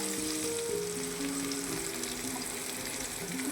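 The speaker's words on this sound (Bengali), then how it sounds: "কিশমিশটা ভেজে নেব, তার সাথে কাজুটাও একটু ভেজে তুলে নেব আমি।" Raisins and cashews fry in hot oil for a vegetarian navratan korma, making a continuous, even sizzle close by with a faint steady hum underneath. No one speaks.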